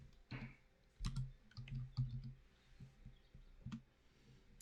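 Sparse, faint clicks of typing on a computer keyboard in Google Docs, tapped in small irregular clusters with pauses between, close and quiet with no voices.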